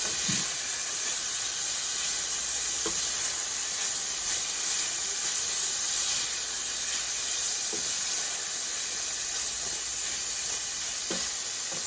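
Green beans cook in a hot pan with a continuous bright hissing sizzle, broken now and then by soft knocks of stirring.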